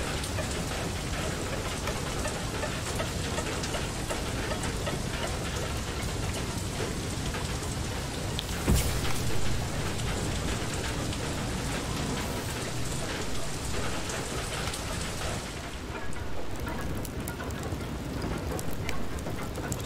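Hail rattles down steadily in the FAR: Lone Sails video game, a dense, continuous patter on surfaces with a brief sharper burst midway, heard alone without talk.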